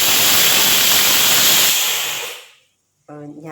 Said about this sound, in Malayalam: ഞാൻ കുക്കറിൽ ചോറ് വെച്ചിട്ടുണ്ട്. അതിൻ്റെ വിസിൽ വന്നേ കേട്ടോ.